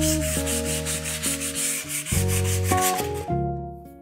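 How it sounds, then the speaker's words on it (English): Hand sanding of resinous fir wood with grit 120 sandpaper: a continuous rough scratching rub with steady strokes, close and loud, under a backing of sustained music tones, ending abruptly. "Since fur, like pine, is a kind of wood full of resin, we suggest the double step sanding."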